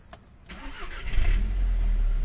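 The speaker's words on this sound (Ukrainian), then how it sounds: "Зараз я вам продемонструю, як двигун запускається та працює." A VW Golf GTI 2.0 TSI starts up after engine repair: a brief cranking whir, the engine catches quickly and settles into a steady, even idle, loud and close.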